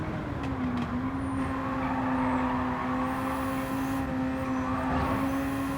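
Car engine from a driving video game, a steady droning tone that shifts slightly in pitch as the car drives, heard alone with no talk.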